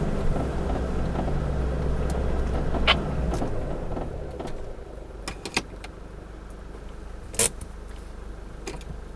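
Two four-wheel-drive vehicles roll down rough Launders Track in Grampians National Park, with a steady low engine rumble fading as they move off, followed by scattered clunks and knocks from the track.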